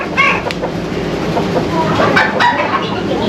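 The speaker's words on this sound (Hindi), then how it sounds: "ये तो बहुत महंगा मुर्गा है।" Chickens cluck and a rooster calls at a farm in Pakistan, several close squawks and clucks over a busy background of noise, with little talk.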